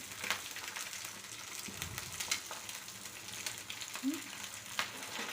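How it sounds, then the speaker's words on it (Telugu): Egg frying on one side only in a pan for a half-boiled egg, a soft, faint sizzle with scattered small pops and light clicks, quiet and steady with no talking. "2 to 3 minutes దాకా మీరు అట్లే ఫ్రై చేసుకోవాలి."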